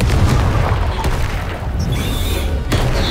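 A Confringo blasting curse explodes in the video game Hogwarts Legacy as a loud booming blast, set within dense, continuous rumbling combat noise.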